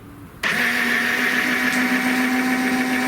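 Retractable landing gear on an RC L-39 jet model switches on abruptly and runs as a steady, close electric whine that holds level to the end, with no voices.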